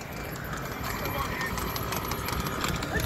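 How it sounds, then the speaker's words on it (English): Hooves of a horse and dray cart clip-clop during a street horse-cart race in Georgetown, Guyana, a steady rhythmic clatter under a dense crowd murmur and outdoor noise, with voices talking throughout. "this one is a horse by himself, a horse cart by himself"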